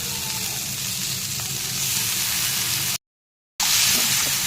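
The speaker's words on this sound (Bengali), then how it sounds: "বেগুন দিয়ে মেথি ভাজা ভাজা হয়ে গেছে, এবার শাকগুলো দিয়ে দেবো।" Eggplant and fenugreek frying in a pan with onion and green chili, giving a steady, close hiss of sizzling oil that cuts out briefly to silence before resuming.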